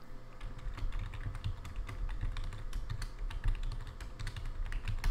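A computer keyboard is typed on in a steady run of quick, light key clicks during a CentOS 7 Samba server setup, close up and fairly quiet with no speech.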